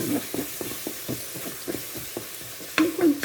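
Onions fry in a pan with a steady soft sizzle while a utensil scrapes and stirs at an uneven rhythm, close and alone, with a couple of louder scrapes toward the end.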